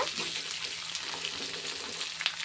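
Sliced ivy gourd fries in a pan with a soft, steady sizzle, heard quietly and mostly alone.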